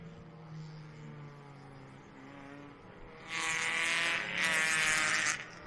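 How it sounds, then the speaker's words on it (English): Hyundai Excel race cars pull away from the dummy grid at a circuit race meeting, engines rising from a low rumble to a loud, bright roar of several cars accelerating past in two close bursts. "we have all of the cars leaving the dummy grid right now"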